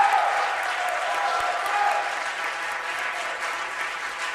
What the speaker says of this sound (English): I think we should hear one more round of applause for Ms.